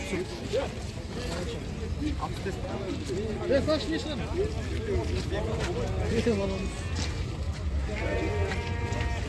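Lambs and sheep bleat repeatedly at a busy livestock market, overlapping calls near and far over a constant crowd murmur with people talking throughout.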